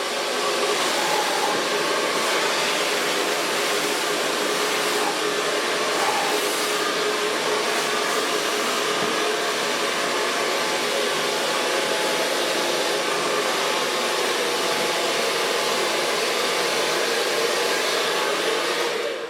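A hair dryer blows steadily and loudly at close range while long hair is being blow-dried in a salon, a continuous unbroken whoosh with no talking over it.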